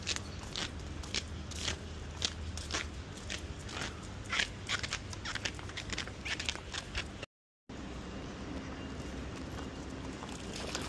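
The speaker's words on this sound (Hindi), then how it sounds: "ये मेरी चप्पलों की आवाज़ देखना ज़रा आई मीन सुनना" Wet slippers squelching and slapping underfoot while walking through cold water during a storm in Dubai, a steady run of crackly, crunchy steps over noisy rushing background, with a short gap near the end.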